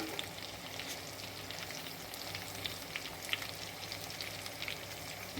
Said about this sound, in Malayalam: എന്നിട്ട് സവാളയും കൂടെ ഒന്ന് ഇളക്കി ഇതിനകത്തേക്ക് യോജിപ്പിക്കാം